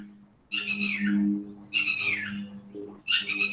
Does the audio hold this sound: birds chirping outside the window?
yes